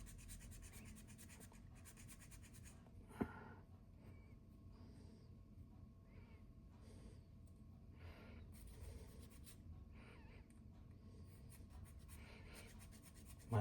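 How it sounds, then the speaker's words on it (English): A metal file rasping across a plastic part during repair of a Lionel 145 automatic gateman, faint repeated scraping strokes in a quiet room. "My file's starting to get clogged up with plastic a little bit"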